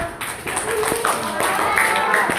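Children in a classroom clap during a puberty health lesson, with a brief burst of scattered hand claps under room noise and faint voices.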